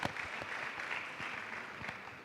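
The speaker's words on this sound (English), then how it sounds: "Please give them a round of applause." An audience at a high school debate claps steadily for a couple of seconds, moderately distant and even, with no voices over it.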